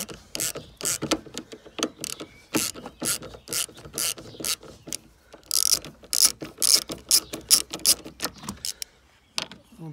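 A ratchet screwdriver with a T25 bit works loose a tight screw on a C5 Exclusive's tailgate, giving loud bursts of rapid ratcheting clicks in uneven spurts with brief pauses between them.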